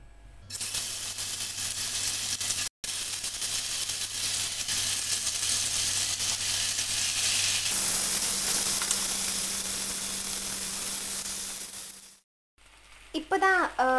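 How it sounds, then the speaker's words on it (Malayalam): Fish dropped into hot oil in a pan, a loud steady sizzling hiss that fills most of the stretch before cutting off, with a brief voice near the end. "ഇനി നമുക്ക് വറക്കാനുള്ള മീൻ ഇട്ട് കൊടുക്കാം."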